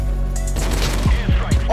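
Two sharp shots from the Beagle sniper rifle in a video game, fired in quick succession close up, with a tonal game sound ringing underneath.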